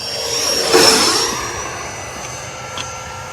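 An FMS 80mm Rafale model jet makes a close flyby: a loud ducted-fan whine with a rising and falling pitch sweep that peaks early and then fades as it pulls away, with a faint whistle lingering afterward.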